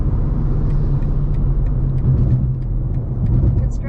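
A BMW M2 G87 running an M2CS tune drives on the road, a loud steady low engine drone and cabin rumble heard from inside, with no distinct shift audible in this stretch.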